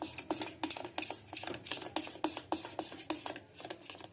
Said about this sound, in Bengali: নুন দিয়ে ভালো করে মিশিয়ে নিচ্ছি